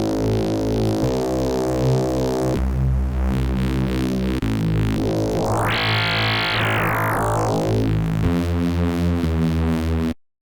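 Synth bass patch with a stable sine sub under unison-thickened upper harmonics, playing a sequence of sustained notes with a rising filtered sweep midway, loud and alone.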